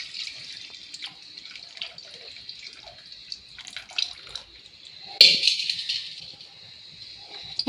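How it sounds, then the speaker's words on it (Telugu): Buttermilk poured into a pot for a curd-based stew, a steady liquid trickle with small splashes throughout and a sharper, louder splash partway through, close and clear with no talk. "కొంచెం మజ్జిగ వేసుకుంటున్నాను."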